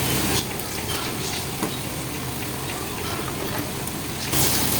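Garlic, cumin and ginger paste frying in a pan over medium-low heat while being stirred, a dense, close crackling sizzle with soft scraping throughout.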